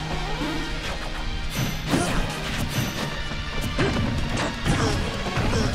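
Hits landing in Super Smash Bros. for Wii U during a competitive singles match: repeated loud smashing and whacking impacts, including up smashes, crash over continuous game sounds in an irregular rhythm.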